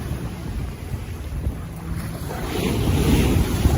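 Waves crash on a shore at sunset with jet skis nearby, a rumbling surf mixed with wind buffeting the microphone, swelling louder toward the end; no talking.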